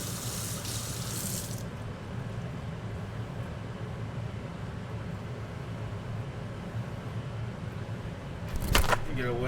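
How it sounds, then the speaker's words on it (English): Running tap water pours steadily over a kitchen knife blade to rinse off chopped herbs, a continuous close splashing hiss, followed by a brief clatter near the end. "A little rinse on the blade there, get all them herbs off."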